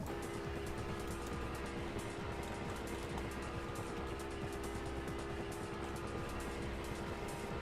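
Drift cars racing in a tandem battle at a drift competition, a Toyota Supra chasing the lead car: a continuous loud engine roar with a steady drone throughout, with no pauses.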